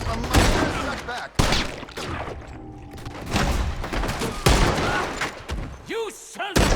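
Gunfire rings out during a shootout in Red Dead Redemption 2: repeated loud, close shots and bursts in quick succession, mixed with shouting voices and impacts.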